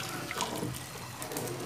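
Hot water poured into a pot of cooking fava beans for a traditional Kabyle dish, a faint brief splashing and trickling, quiet and close.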